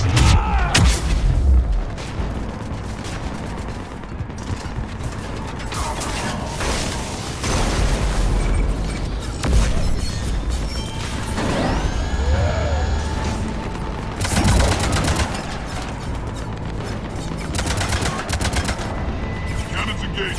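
Ship cannons fire in a Mass Effect sci-fi game battle on Omega, loud repeated booming blasts and bursts of gunfire over a constant dense din, with a sweeping tonal effect midway.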